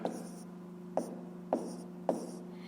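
Pen or pencil writing numbers by hand during a fifth-grade math lesson, heard as a few short scratchy strokes spaced about half a second apart over a steady low room hum.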